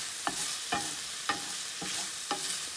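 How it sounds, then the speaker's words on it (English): Garlic sizzles steadily in a hot pan beneath roughly five sharp scrapes of a utensil stirring it, coming at a loose, regular rhythm. "we're just going to give it a stir"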